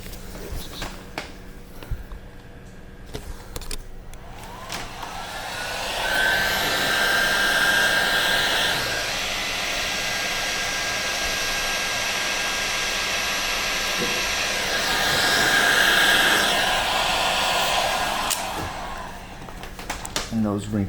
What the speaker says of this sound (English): grab a heat gun.